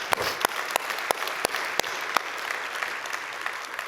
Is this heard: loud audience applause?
yes